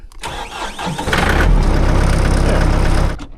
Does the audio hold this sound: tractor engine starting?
yes